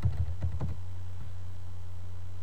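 Fast, light keystrokes on a computer keyboard in the first second, clicking under a steady low hum, then only the hum remains.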